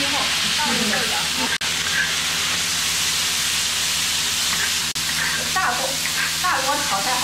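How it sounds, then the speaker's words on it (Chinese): Green beans hit hot oil in a large wok over high flame after Sichuan peppercorns, ginger and garlic are fried for a New Year's Eve meal, giving a loud, steady sizzling hiss throughout while a voice talks over it. "爆香之后倒入豆角"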